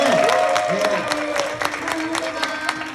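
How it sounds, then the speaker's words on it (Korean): Audience applause at a girl group's showcase fan event, sustained clapping from a crowd with sustained music tones and some cheering mixed in. "그렇다고 생각하시면 박수 한번 주시기 바랍니다."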